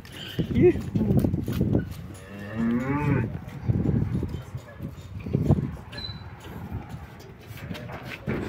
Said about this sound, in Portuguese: Olha o boi na frente.